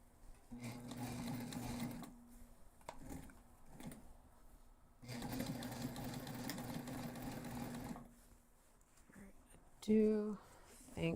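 A sewing machine bastes fabric for a backpack in steady buzzing runs, stopping and restarting, close up with brief talk and handling noise at the end.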